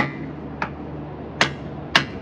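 Three sharp hammer blows on a whole coconut, struck outdoors to crack it open, the knocks spaced unevenly and close, each a hard dull crack over a quiet background.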